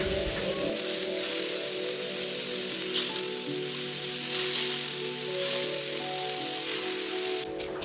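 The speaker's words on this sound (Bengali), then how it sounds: "তারপরে চিকেনগুলোকে হালকা হালকা রোস্ট করতে হবে" Chicken pieces roasting in an oil-sprayed skillet for a home-cooked butter chicken, giving a steady, close, rain-like sizzle and crackle that holds throughout with no talking, then cuts off sharply near the end.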